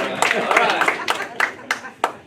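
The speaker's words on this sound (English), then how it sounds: "give her a round of applause" Scattered hand claps from a small crowd, a few sharp individual claps standing out, mixed with voices and cheering.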